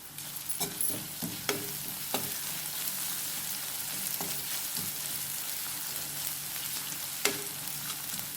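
Onions sautéing in a pan with a pinch of salt give a steady soft sizzle, broken by a few light stirring clicks and scrapes, fairly quiet and close with no talking.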